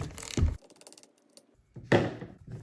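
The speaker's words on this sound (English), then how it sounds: "get yourself a 13 millimeter and take this bar off" A 13 mm wrench loosening the bar nuts on a Husqvarna Rancher 455 chainsaw, heard as two close metallic ratcheting bursts separated by quieter clicking, with no voices.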